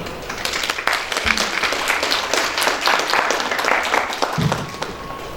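Warm applause welcomes a speaker at an academic architecture talk, with moderate, dense clapping and occasional voices underneath.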